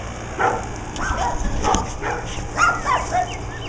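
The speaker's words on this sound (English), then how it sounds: "You can hear my sister's dogs in the background." Several pet dogs bark outdoors in the background, a scattered series of yips and bow-wows coming at irregular intervals, moderately distant, over a low steady ambient hum.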